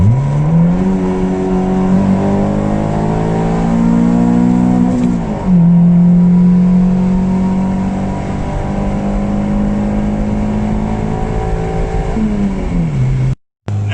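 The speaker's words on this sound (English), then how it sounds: "I'm going to do a little second gear pull for you guys." A classic car engine with modifications revs up steadily as it accelerates hard in second gear, pitch climbing loud and close, then dropping briefly before climbing again.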